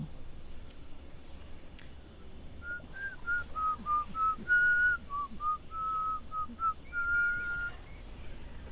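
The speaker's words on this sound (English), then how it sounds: "Don't know why I'm whistling that either." Someone whistles a short tune in sustained, wavering notes, close and fairly clear over a low steady background hum, with a brief pause before the melody resumes.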